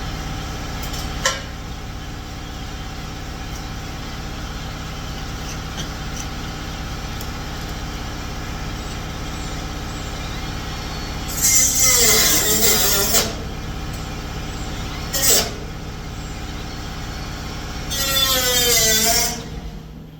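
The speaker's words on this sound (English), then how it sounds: "So, air saw to the rescue." An air saw cuts through the rusted steel quarter panel of a 1953 Packard in three loud bursts of harsh sawing over steady shop background noise, with a short hit just after the first cut.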